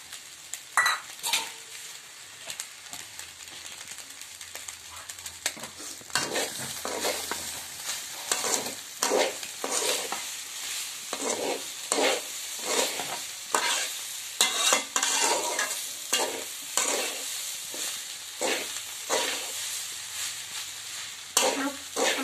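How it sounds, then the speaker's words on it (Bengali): Vegetables frying in a pan with a ground paste of ginger, cumin and whole coriander, a steady sizzle broken by repeated stirring scrapes and clinks of a utensil against the pan, close and fairly loud, with no talk. "এই সবজিটা ভাজবো একসঙ্গে"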